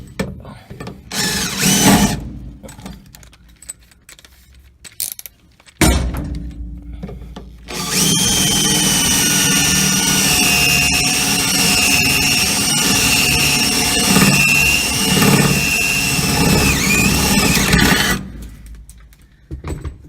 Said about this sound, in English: So we just drill another one over here.